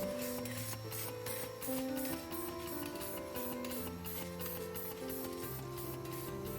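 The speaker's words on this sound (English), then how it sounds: "The last one, spraying stripping labeling machine." Mechanical whirring and rhythmic ticking of a spraying, film-stripping and labeling machine on a tempered glass phone screen protector production line, steady and continuous, with a hissing spray layered over a background melody.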